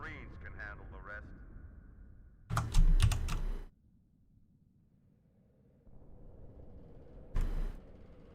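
Keyboard and mouse clicks from a Halo 2 session on PC, heard as a short dense burst of rapid clicking and then a second brief flurry, with game audio and voices playing around them.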